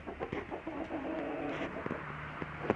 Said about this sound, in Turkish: Şu genç bir tavuk, güzel bir tavuk.